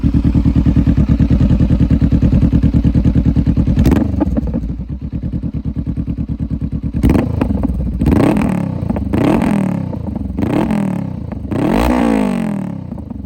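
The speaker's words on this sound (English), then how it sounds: "let me turn it on here. And we'll see how this sounds with that exhaust." A 2019 Honda CB500F motorcycle with an aftermarket exhaust idles with a loud, throaty exhaust rumble, then is revved several times in sharp bursts that rise and fall, close up.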